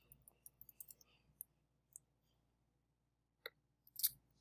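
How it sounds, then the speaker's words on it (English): Quiet, scattered key clicks from typing on a computer keyboard, a few quick bursts of taps followed by sparse single clicks and a pause, with a louder cluster near the end; no talking. "let me type that in real quick"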